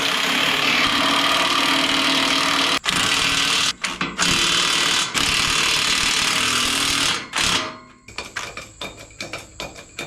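Loud rattling, chugging engine of an antique tractor with a small exhaust leak, running hard with a few abrupt cutouts, then settling into an uneven, clattering idle.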